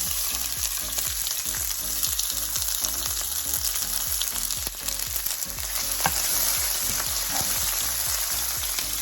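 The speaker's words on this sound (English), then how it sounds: "Then I'm going to add my onions, my garlic, and my hot pepper." Onions, garlic and hot pepper fry in olive oil in a pan over medium heat, giving a loud, continuous close sizzle with a rapid crackle of oil popping, no voices.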